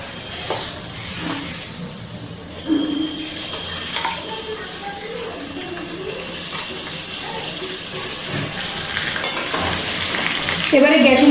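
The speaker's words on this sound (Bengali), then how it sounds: "এবারে গ্যাসের ফ্লেমটা হাইতে দিয়ে ভালো করে একটুখানি কষিয়ে নিচ্ছি।" Mutton sizzles in a pan with ginger-garlic paste over a high gas flame, a continuous frying hiss with scattered stirring clatter and some splashy, watery bursts, rising toward the end, no clear speech.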